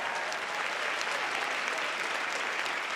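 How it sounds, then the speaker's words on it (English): A town hall audience in New Jersey claps steadily for the whole stretch, a dense, even wash of many hands at moderate loudness with no voices. "Let's give Ellie a round of applause as well"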